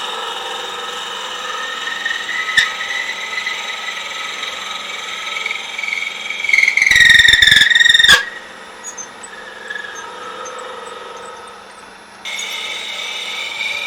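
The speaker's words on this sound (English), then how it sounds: "we're going to come in with a 9/16 drill bit" A 9/16 drill bit bores into wood for a woodturned noisemaker, a steady loud whine of the power tool with a rising squealing grind in the middle as the bit bites, then easing off and continuing.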